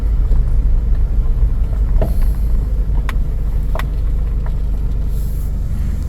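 Car driving slowly around a wooded camping resort in Elkton, Maryland, heard from inside as a constant low engine and road rumble with a few faint clicks and knocks, no one speaking.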